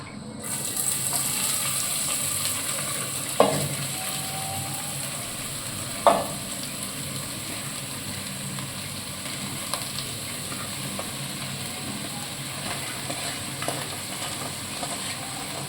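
Spring onion and egg curry stirred in a pan, a steady soft frying sizzle with a couple of sharp spoon scrapes against the pan, close and continuous with no talking.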